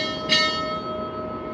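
A single bright ship's bell strikes once and rings out at a US Navy retirement ceremony, its tone lingering over a low background hum.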